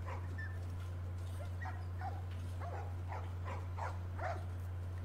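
Dogs in The Last of Us video game give short yips and whimpering barks, several bursts spaced across the stretch over a steady low hum, fairly faint and close.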